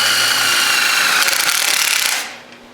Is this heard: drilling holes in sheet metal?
yes